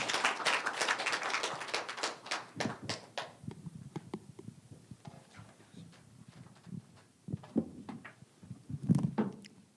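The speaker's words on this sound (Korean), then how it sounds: "큰 박수로 맞이해 주시기 바랍니다." Scattered audience clapping at a Korean science and technology forum's anniversary event, fairly dense at first, then thinning to sparse, uneven individual claps before a brief final flurry.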